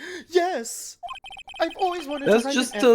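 Brief electronic ding of a phone text notification in Phoenix Wright: Ace Attorney, a quick pair of chimes squeezed between stretches of excited talking.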